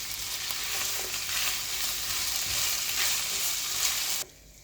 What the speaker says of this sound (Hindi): रेड शिमला मिर्च डाल के हल्का सा सौटे किया